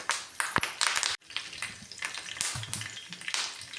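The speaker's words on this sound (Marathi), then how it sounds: "बघा कढीपत्ता थोडासा भाजला" Curry leaves dropped into hot oil in a pan crackle and sizzle loudly in bursts, with sharp pops and a brief sputter, while stirring noises continue close by.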